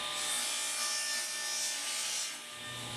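A saw cuts an angle through a wooden board on a tapering jig sled, giving a steady, loud rasping whine that eases off near the end as the pass finishes.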